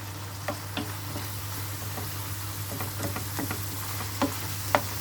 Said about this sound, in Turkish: Şöyle biraz soğanla kavrulsun